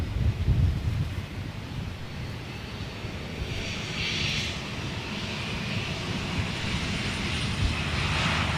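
A British Airways jet starts its number 2 engine, a steady, broad roar with a faint rising whine building over several seconds, heard from nearby with some wind buffeting the microphone.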